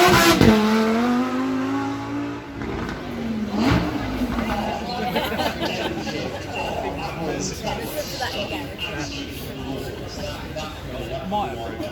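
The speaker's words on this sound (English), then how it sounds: "keep that V10 noise in mind because we're about to hear the Lamborghini SLR" A Lamborghini V10 supercar launches and accelerates hard at a Beaulieu supercar demo, its engine rising in a loud rasping wail with gear changes and crowd noise around, and talk over the top.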